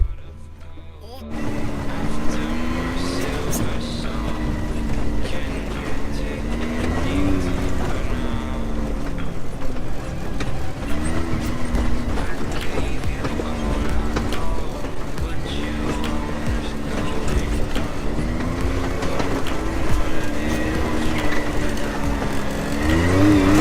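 A Can-Am Maverick off-road vehicle driving on a trail near Sedona, its engine droning steadily and loud throughout with shifting pitch as it revs, close up, with faint voices at moments.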